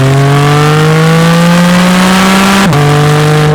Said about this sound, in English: The sound and performance of that 414 horsepower, 4-liter, normally aspirated 6-cylinder flat six is just amazing.